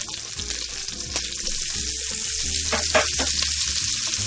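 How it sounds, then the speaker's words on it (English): Garlic and hot peppers fry in a pan for spaghetti with bacon and corn, a close, bright sizzle that swells and stays steady, with a few sharp crackles and utensil knocks, no voices. "now we're going to put our garlic and our hot peppers in just for a minute or two"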